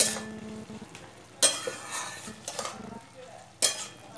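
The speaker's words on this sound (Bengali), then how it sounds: "এরপরে একটু নাড়াচাড়া করে নিই।" A spoon scrapes and stirs bottle gourd cooking in a covered pot, with a few louder bursts of clatter and a soft simmering sizzle in between, close and without talk.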